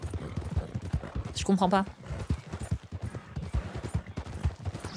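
Horse hooves gallop in Red Dead Redemption 2 as a steady rhythmic clip-clop under continuous talk, with a brief whinny partway through.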